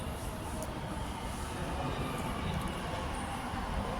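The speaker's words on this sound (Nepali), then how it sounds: "एकदम उताको लाइनमा मेट्रो आउँदैछ लाग्छ" A steady, loud rumble of a metro train arriving at a station in Doha, Qatar, with broad low-frequency roar and faint high screeching tones, no voices.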